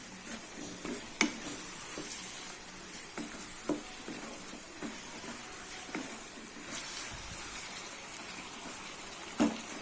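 Veg kaima parotta with its vegetables is stirred in a pan over a high flame, giving a soft, steady sizzle broken by several quick scraping strokes of a spatula. The sound is quiet and close, and no one speaks.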